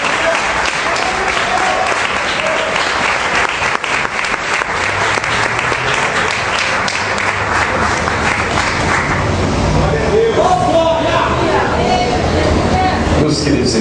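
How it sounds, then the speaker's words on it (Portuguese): Loud, sustained applause from a church congregation at an evening service, steady clapping filling the whole stretch with crowd noise swelling toward the end. "Então, mais uma vez, vamos aplaudir a Jesus"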